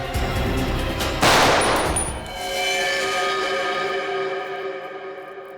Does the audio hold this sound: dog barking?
no